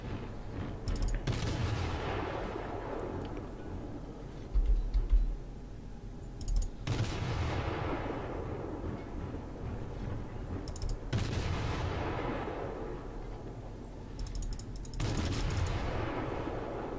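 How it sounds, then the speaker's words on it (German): Naval guns fire in World of Warships while the German cruiser Dresden is played, heavy booming salvos roughly every four seconds, each decaying into a long rumbling tail, with faint clicking between shots. "die Feuerrate hier von dem Ding ist echt der Knaller"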